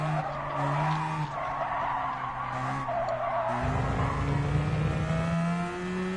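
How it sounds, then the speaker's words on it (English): A Mazda in a PS4 racing game skids at high speed through corners, its tires squealing loudly over a continuous engine drone that shifts pitch as it slides. "I'm trying to drive a Mazda over 100 miles an hour around corners"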